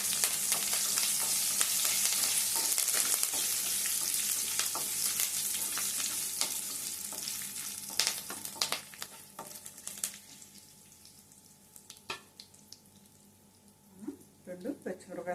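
Curry leaves and dried red chilies sizzling in hot oil for a ridge gourd milk curry, a loud, close, hissing crackle that gradually quiets to scattered pops and spits near the end.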